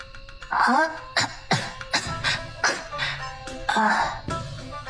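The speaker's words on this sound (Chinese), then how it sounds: "被呛到了，她咳嗽的厉害" A woman's repeated harsh coughing fits after choking, several bursts in a row, close and loud, with a strained wheezy edge between them.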